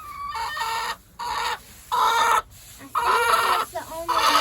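A backyard hen clucking and squawking loudly after laying an egg, in repeated drawn-out raucous calls with brief gaps, close to the microphone.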